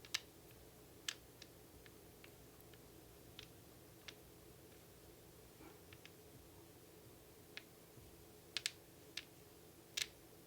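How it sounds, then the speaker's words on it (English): Batteries click and tap together in a quiet room, a sparse series of small, sharp metallic clicks at irregular intervals, some paired in quick doubles, close and soft over a faint background hum. "I've always liked the sound of batteries clicking together."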